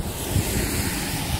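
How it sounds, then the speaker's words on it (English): Ocean waves crashing in at Cape Smokey, a dull, steady surf roar mixed with gusty wind buffeting the microphone, close and continuous, with no talking. "Look at the waves crashing in."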